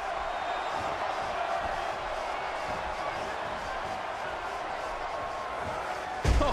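A crowd roars continuously in a wrestling video game match, a dense steady wall of cheering at even loudness throughout, ending with a sudden thud.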